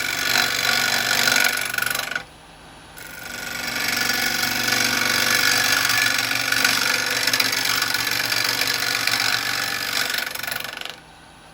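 A woodturning lathe cuts a walnut burr bowl with a continuous close scraping, rushing noise, broken by two short pauses where the tool lifts off the spinning wood.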